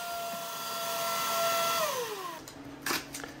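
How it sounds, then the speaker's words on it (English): A Kreg Foreman pocket hole machine drills into plywood blocks, its motor whining steadily and then winding down, followed by a couple of brief clunks as the workpiece is handled, close and fairly loud. "Here I'm putting some pocket holes in the plywood blocks I'll use for the glue up with my Kreg Foreman."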